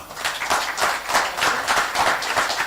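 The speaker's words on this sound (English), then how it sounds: "I would request each one of you to clap for CSR team" An audience at a business thought-leadership forum claps for a team. The applause is dense and loud, with many hands clapping in waves that continue throughout, and there is almost no talking.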